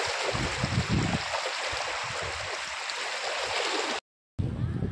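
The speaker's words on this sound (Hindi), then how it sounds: "देखो बाढ़ का पानी" Floodwater rushes through a swollen river in a broad, continuous hiss with low gurgling surges. A brief dropout interrupts it near the end before the flow resumes.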